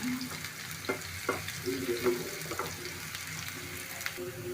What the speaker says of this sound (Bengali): এখন দেবো একটু লবণ, পেঁয়াজ ভাজা হয়ে যাবে ঝটপট।